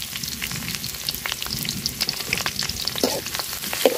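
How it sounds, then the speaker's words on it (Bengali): Chopped onion and garlic fry in oil with cardamom, cinnamon and bay leaf for khuder bhaat, a steady close crackling sizzle with occasional stirring scrapes and no talk. "পেঁয়াজটা আর রসুনটা মশলাটা আমি সুন্দর করে বাজা নিছি"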